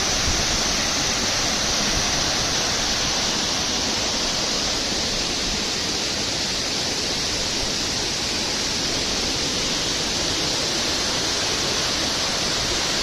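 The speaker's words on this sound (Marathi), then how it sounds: "पण धबधबा बघताय तुम्ही आणि पाण्याचा आवाजसुद्धा येत असेल तुम्हाला" Savatkada waterfall near Rajapur in the Konkan, running at low force in a season of light rain, roars with a steady broadband rush of falling water, loud and constant throughout.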